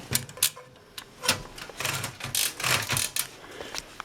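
A big, heavy Italian-made Olympia Deluxe SM3 manual typewriter is handled up close, giving scattered clunky mechanical clicks, knocks and rattles at an irregular pace with brief quiet gaps.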